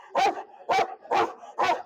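Native Tamil breed dog barking at a native dog show, four loud, evenly spaced barks close by, with no talk over them.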